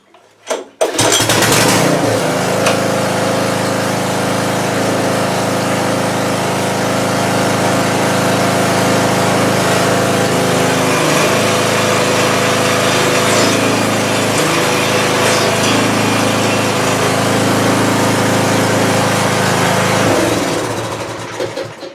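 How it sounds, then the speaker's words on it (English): A Craftsman front tine rototiller engine fitted with a replacement carburetor starts after a brief pull and then runs loud and steady at a constant throttle, close by, before cutting off at the end. "Okay, the gas is in it. Let's see what it's going to do."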